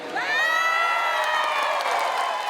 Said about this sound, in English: The residents cheer as they were nicely surprised.